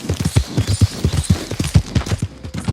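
Horse hooves clip-clop in a quick, steady rhythm in the video game Red Dead Redemption, the thudding beats loud and close over a faint background hiss.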